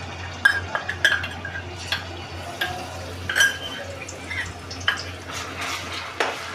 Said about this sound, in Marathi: आता आपलं तेल तापते, तर आपण आता आलं लसूण मिरची हे टाकून घेऊया